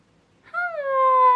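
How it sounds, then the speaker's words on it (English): A kitten gives a single drawn-out, rising-then-falling meow close by in a quiet room. "Look at this kitty cat."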